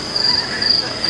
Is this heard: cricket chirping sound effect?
yes